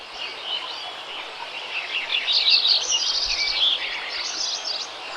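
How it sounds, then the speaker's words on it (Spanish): Field recording of birds singing by a river: dense high chirps and trills from several birds at varying distances over a soft, steady wash of flowing water. "Se oye un río, pájaros en diferentes dimensiones, riqueza."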